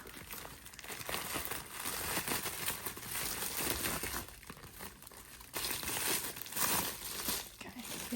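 A heavily taped parcel packed in bubble wrap is pulled open, close crinkling and crumpling of plastic and tape in bursts, with a voice talking briefly in between.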